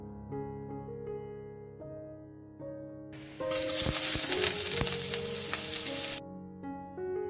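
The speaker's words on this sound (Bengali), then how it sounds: "তারপরে এক একটা করে সবকটা চিকেনকে ভেজে নিচ্ছি" Marinated chicken pieces hit a hot pan and sizzle loudly in a sudden burst lasting about three seconds, set against soft background music that continues before and after.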